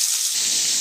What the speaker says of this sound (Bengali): আলুগুলো একটু হালকা ভেজে নেব।